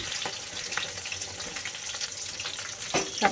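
Onion, capsicum and chopped chilli frying in oil in a wok, a steady sizzle with scattered crackles and a few sharp stirring scrapes near the end, no talking.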